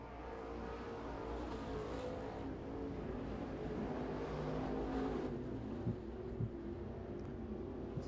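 IMCA stock cars roar around the Arizona Speedway track in a heat race, a continuous distant engine drone rising and falling as cars pass, with faint sharp knocks near the end.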